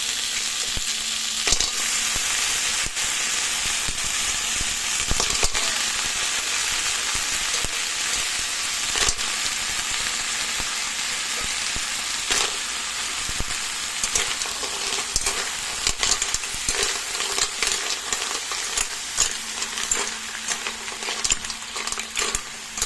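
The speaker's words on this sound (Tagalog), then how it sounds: "Lagyan natin guys yung tahong." Mussels sautéing in a pan, likely with moringa leaves in the dish: a loud, continuous sizzle and hiss of frying with occasional clicks and stirring sounds, steady throughout and without talk.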